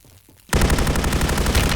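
Gunfire in the video game Call of Duty Warzone bursts in after a quiet moment, a loud rapid string of automatic shots continuing steadily to the end.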